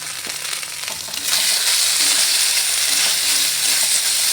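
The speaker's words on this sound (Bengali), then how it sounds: "এখন গোবিন্দভোগ চালটা দিয়ে দিলাম চালটা দিয়ে একটু নাড়াচাড়া করে নিচ্ছি" Gobindobhog rice stirred into frying spice masala for a jackfruit pulao, a loud hissing sizzle that swells after the first second and holds steady, close up.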